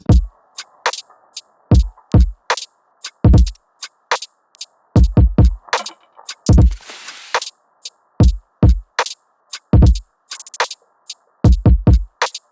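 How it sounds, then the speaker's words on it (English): A full drum loop with punchy kicks, snappy snares and busy hi-hats in a steady groove, loud and close, compression on the high end evening out the bright top and making it less spiky. "now listen to the high end of this particular drum loop,"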